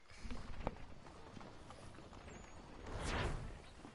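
Horse hooves clip-clop faintly in Assassin's Creed III under a steady bed of ambient noise, with a brighter whooshing swell near the end.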